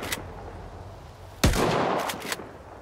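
Gunfire in the video game STALKER 2: a single loud close shot with a long decaying tail, then a couple of quieter snaps, all heard alone without talk.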